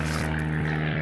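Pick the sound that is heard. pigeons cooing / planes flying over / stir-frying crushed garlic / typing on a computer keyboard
planes flying over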